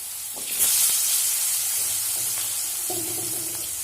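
Potato pieces sizzle steadily in hot oil seasoned with turmeric and salt, a continuous close hiss with light stirring clicks and a bubbling rise near the end, no talking.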